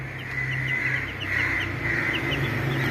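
A mother hen with her chick clucks in a quick run of short, soft, repeated calls close by, over a faint steady background hum.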